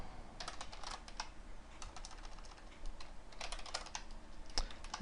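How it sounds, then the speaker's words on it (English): Quick bursts of clicky keystrokes on a gaming computer keyboard, close and fairly quiet, coming in irregular clusters with short gaps over a low background hiss. "Maybe if my keyboard would quit flipping out on me."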